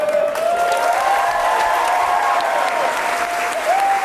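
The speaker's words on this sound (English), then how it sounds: "Maybe the greatest round of applause anyone's received in the history of this chamber" Steady, sustained applause from a large crowd filling a big room, loud and continuous throughout with a few faint voices mixed in.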